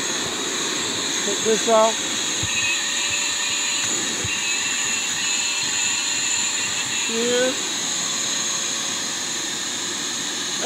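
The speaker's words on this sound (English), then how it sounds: "That's pretty much all I use as far as vacuum cleaner." A Walmart Hyper Tough vacuum cleaner runs with a loud, steady high-pitched whine throughout, close by, while someone speaks briefly over it.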